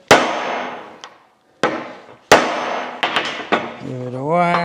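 A hammer whacks a socket on a Scout drive shaft about half a dozen times, sharp metallic strikes with short ringing decay, the final blows ringing out with a sustained tonal clang.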